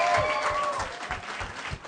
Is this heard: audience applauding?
yes